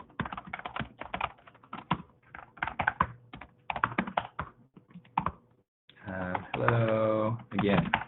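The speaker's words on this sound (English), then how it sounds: "so I'll type one more time" Bursts of clicky computer keyboard typing during an online webinar, several clustered runs of keystrokes with short pauses, followed by a person talking briefly.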